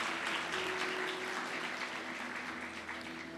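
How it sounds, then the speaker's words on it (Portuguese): Sustained applause from a church congregation during a sermon, a dense wash of clapping that holds steady throughout and tapers slightly toward the end. "Aplauda o Senhor Jesus pela palavra dele"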